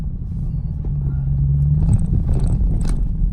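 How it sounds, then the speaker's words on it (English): A 2019 Dodge Hellcat engine droning loud and close, with a low steady rumble and a rising whine building before a brief revving surge, no talk over it. "I know y'all heard that whine"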